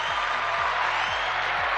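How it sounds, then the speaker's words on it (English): A canned applause sound effect, a steady dense wash of crowd clapping and cheering at even loudness for a couple of seconds, with a faint low tonal pattern repeating beneath it. "since I just got the new sound effects, I'm going to leave you with some applause"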